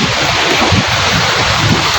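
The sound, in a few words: strong sea waves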